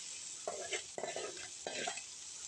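Cumin seeds sizzle and crackle in hot oil as they brown for a Bengali matar shak stir-fry, with a steady frying hiss and three short bursts of stirring scrapes close by.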